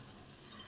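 Bitter gourd slices fry in a pan with a faint, even sizzle and soft stirring, quiet and close, with no voices.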